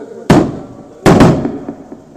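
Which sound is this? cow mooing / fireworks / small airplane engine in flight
fireworks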